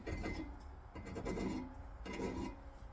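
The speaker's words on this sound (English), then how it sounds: "you're just going to take your file and just kind of give this a nice, nothing crazy" A hand file rasps across the cut end of a metal brake line to bevel its edge, making three close, steady back-and-forth strokes with no talking.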